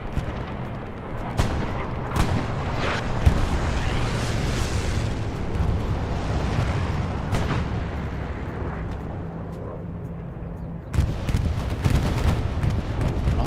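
Artillery shelling trenches in the Hell Let Loose video game on a desert map, a sustained heavy rumble of distant blasts and booms with a sharper burst of impacts near the end, loud and continuous.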